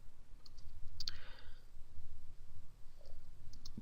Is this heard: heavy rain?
no